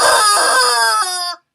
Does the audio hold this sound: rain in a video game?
no